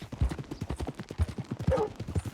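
Horse hooves clip-clop at a steady walking rhythm in the video game Red Dead Redemption 2, close and distinct, with a brief snort or whinny partway through.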